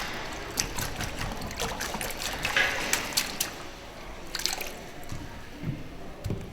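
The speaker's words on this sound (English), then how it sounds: "And then wash your brush out." A plastering brush is swished and sloshed in a bucket of water, producing irregular wet splashes, drips and squelches close by, with brief louder splashes between quieter trickling.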